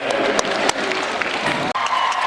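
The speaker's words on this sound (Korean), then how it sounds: "김민지 선수, M스타의 김수지 선수, G스타의 이다현 선수를 박수로 받으시기 바라겠습니다." Sustained applause from a crowd at a volleyball all-star game as players are introduced, a dense steady clatter of clapping with a brief dip near the end.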